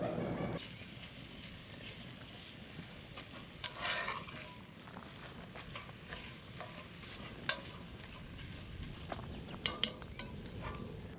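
Beef sausage being broken up and cooked in a pot for a cabbage stew, a steady close sizzle with scattered scraping stirs and clinks over about eleven seconds, no talking.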